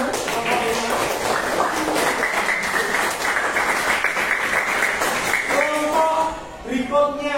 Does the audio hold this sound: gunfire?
no